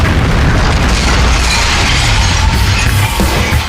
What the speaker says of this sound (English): Several of the officers are blown off their feet and pelted with debris from the blast.